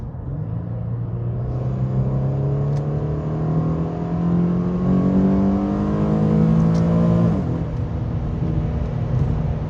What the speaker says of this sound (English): As I rev it up to 7K.